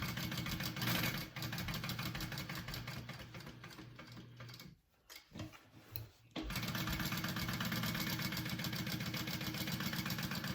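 A sewing machine basts a pocket onto a Vekza bowler bag, running in a steady, fast continuous whir that stops briefly for a couple of seconds in the middle before resuming at full pace.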